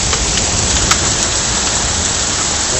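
Steady, dense rain pours down in a storm of rain and wind, a continuous close hiss with scattered heavier drops and no voices.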